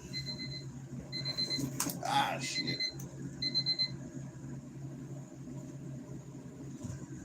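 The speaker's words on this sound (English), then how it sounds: "Alarms going off everywhere." Several alarm clocks ringing at once, repeated high electronic beeps sounding in short bursts over a low hum of room noise, with a quick rustle and a man briefly muttering partway through.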